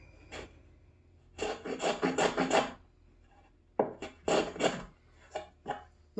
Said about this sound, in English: Chamfer the back side so we don't blow it out.